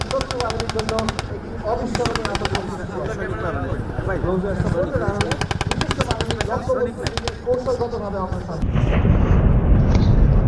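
At a Bangladesh Army live-fire exercise, machine guns let off rapid bursts of gunfire in repeated volleys, and near the end a heavier booming rumble of artillery follows.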